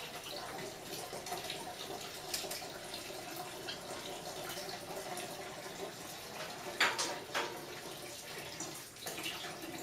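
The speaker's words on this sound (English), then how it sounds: "Do a tap water rinse." Running tap water rinsing a part between cleaning and a gold plating bath in a plating shop, a steady moderate splash and trickle with occasional louder drips and bursts, no talking.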